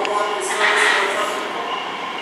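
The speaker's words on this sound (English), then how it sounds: "The next train is ready to depart, apparently." A Heathrow Express train idles at a Heathrow platform with a steady, loud mechanical hum and whine, and a faint high squeal rises briefly near the middle.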